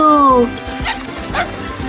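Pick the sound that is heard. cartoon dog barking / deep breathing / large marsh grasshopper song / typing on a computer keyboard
cartoon dog barking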